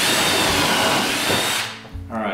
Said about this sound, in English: let's drill another hole here